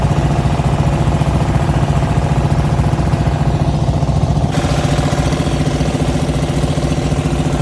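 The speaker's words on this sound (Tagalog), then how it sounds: "pakinggan nyo na lang yung ingay ng pump boat" A pump boat's engine drones steadily and loudly for the whole stretch, a close, unbroken mechanical idle-like hum with no talking over it.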